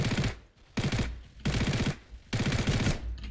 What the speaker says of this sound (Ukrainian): по мені хтось там стріляв